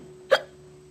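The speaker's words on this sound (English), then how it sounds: "She has the hiccups." A woman gives a single sharp hiccup, close and clear, against a quiet background.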